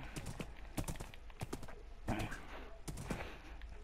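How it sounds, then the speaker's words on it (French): Hooves of a black-and-white horse clip-clopping in Minecraft, a run of sharp, close hoof clacks in an uneven trotting rhythm with scattered louder hits. "Il est là ton cheval là, le noir et blanc."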